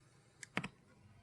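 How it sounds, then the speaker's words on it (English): Keys on a computer keyboard are tapped for a shortcut during drawing work in Toon Boom Harmony 10: one light click, then a quick double press, close and crisp in a quiet room. "I'm just going to use the keyboard shortcut Alt-Y to go back to the pencil tool"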